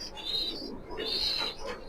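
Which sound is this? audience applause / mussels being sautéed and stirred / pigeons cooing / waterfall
pigeons cooing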